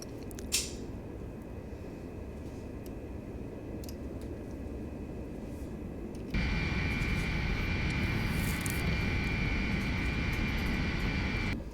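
Lockheed TriStar airliner engines in the Prepar3D flight simulator rumble steadily while taxiing at Washington Dulles, then surge louder midway as thrust rises to a stronger, whining roar, with no talk.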